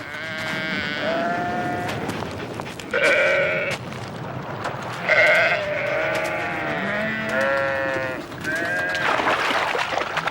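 Several North Ronaldsay sheep bleat in overlapping, wavering calls, some high and some lower, loud and close over a constant outdoor rumble for about ten seconds.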